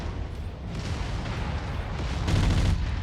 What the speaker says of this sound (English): The burst fire weapon fires fast, does a lot of damage, but the damage spreads quite a bit.